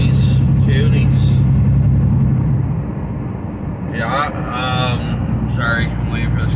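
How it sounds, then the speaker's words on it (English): A car rolls past a driver's vehicle on an Alberta road, its engine rumble swelling and fading beneath steady road noise, while someone talks over it. "I'm waiting for this car to get by me"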